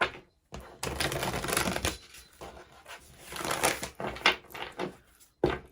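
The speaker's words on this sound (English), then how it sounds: "I'm sorry you can't see me shuffle." Irregular papery riffling and slapping of tarot cards being shuffled up close, in uneven bursts with brief pauses.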